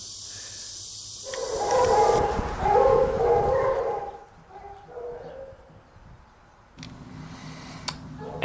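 A championship coonhound bays and howls outdoors, with drawn-out howling cries rising and falling over several seconds, then quieter barks and a few birds in the background.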